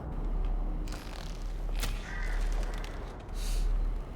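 Crow-like caws from a bird in the video game Little Nightmares 3, a few harsh calls standing out over a steady ambient game background.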